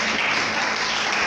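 A church congregation breaks into applause, a dense, even clapping that sounds near and fairly loud and keeps going for the whole brief moment.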